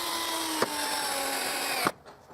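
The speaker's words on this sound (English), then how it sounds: "I screw a piece of strip to the chainsaw jig." A power drill drives screws to fix a wood strip onto a chainsaw cutting jig, a steady whining drone broken by two sharp clicks, ending abruptly with faint handling noise.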